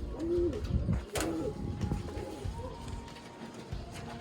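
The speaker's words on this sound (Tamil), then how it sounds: "இங்கே வந்து ஃப்ளை பண்ணுறதுக்கு உண்டான பேர்ட்ஸ் எல்லாம் இங்கே வச்சுருப்பார் அவர்" Pigeons in a racing pigeon flying loft kept for tournament flights, soft cooing calls and rustling close by, with someone talking over them.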